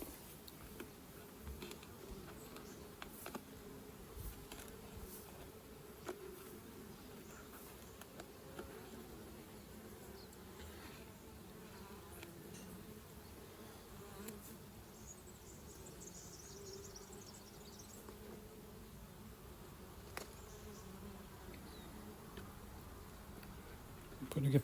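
Honey bees in a strong mini nuc hive with plenty of brood make a continuous low buzzing drone, broken by scattered light ticks and clicks from handling frames nearby.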